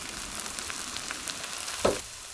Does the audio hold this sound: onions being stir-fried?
yes